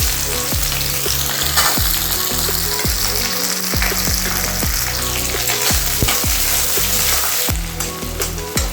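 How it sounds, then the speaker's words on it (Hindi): Onions fry in oil in a pan with a loud, dense crackling sizzle, with repeated sharp spattering pops throughout and a burst of stronger hissing near the end. "तब प्याज भून रही है"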